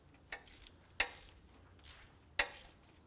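A ratchet snugs down a tensioner pulley bolt on a 2001-2005 Honda Civic during a timing belt job, with three sharp metallic clicks spaced about a second apart, close and distinct with quiet gaps between.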